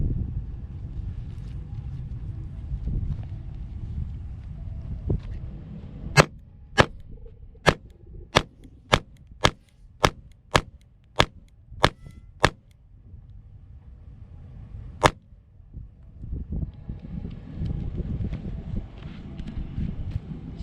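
A Springfield Hellcat pistol is drawn from a holster and fired in a rapid string of about ten sharp, loud shots, then a single final shot after a pause, with wind noise buffeting the microphone before and after.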